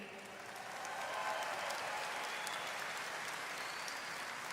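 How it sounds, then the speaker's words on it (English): Audience applause at the Miss Universe final competition, a soft distant wash of clapping from a large crowd that swells in after a moment and stays even. "Let's give another round of applause for our preliminary selection committee."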